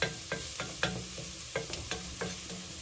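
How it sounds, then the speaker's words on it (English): A spoon stirs lentil bolognese in a pot, giving a run of soft, irregular scraping knocks about every quarter second over a faint background sizzle, close up with no talking. "I'm going to stir this up"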